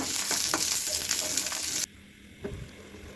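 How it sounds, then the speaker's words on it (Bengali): Garlic fries in a pan with a loud, crackling sizzle and occasional stirring clicks, which cuts to a quieter, softer frying sound. "মরিচ ভাজা শেষ তো এখানে এখন রসুনগুলো ভেজে নিতেছি"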